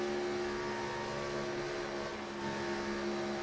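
A simulated race car at Michigan in the iRacing game holds a steady engine drone, then briefly eases off the throttle in a slight dip before the hum resumes, with no talking.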